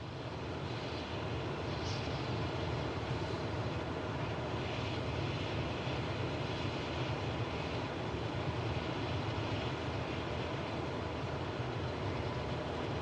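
A simulated aircraft engine in Microsoft Flight Simulator 2024 drones on as a steady, dense roar of even loudness from start to finish, with no talking over it.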